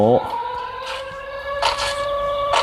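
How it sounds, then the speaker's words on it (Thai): A wailing siren in the mobile shooter Free Fire rises into a steady, piercing tone that holds for a few seconds, with brief clicks of game effects scattered over it. "เสียงหวอเสียงอันนี้เนี่ยแบบ น่าโคตรโหยหวนเลย"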